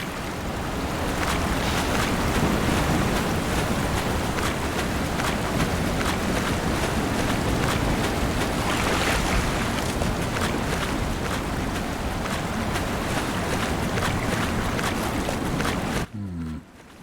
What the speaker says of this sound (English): it's not much of a waterfall, more like kind of like a rapids or something